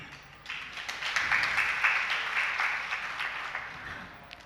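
Congregation at a Jain religious sermon breaking into applause, a sustained wash of many hands clapping that starts abruptly and tapers near the end, moderately loud with no talk.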